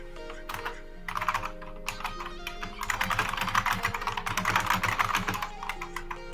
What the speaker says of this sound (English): your typing's noisy